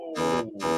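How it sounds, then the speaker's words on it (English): A game-show style buzzer is pressed twice in quick succession, each press giving a loud, flat electronic buzz, the second briefly following the first. "I had so much fun pressing that buzzer on Jack."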